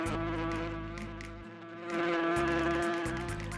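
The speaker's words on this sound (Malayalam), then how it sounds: "അപ്പോൾ രാജാവിന്റെ തലയ്ക്ക് ചുറ്റും ഒരു വണ്ട് പറന്ന്" Beetle buzzing around a king's head as a story sound effect, a steady droning insect whine that swells and fades, close and continuous with no talk.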